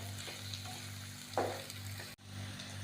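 Turmeric stirred into hot oil with softened, browned onions for a cluster bean (gavar) stir-fry. A steady, close sizzle runs throughout, with a brief scraping stir in the middle and no talking.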